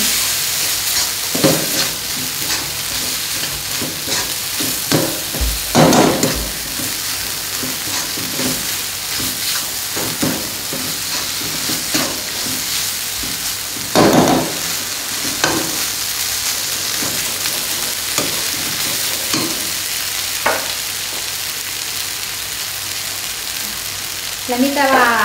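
Rice noodles stir-fried in a pan for a Lao coconut noodle dish, giving a steady sizzle and frying hiss with repeated scraping and stirring strokes. The sound is close and continuous and runs for the whole length.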